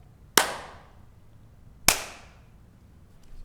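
A clapperboard snaps shut at the start of a take for a Midnight Players radio drama recording. There are two sharp, loud, separate cracks about a second and a half apart, each with a short ringing decay in an otherwise quiet room.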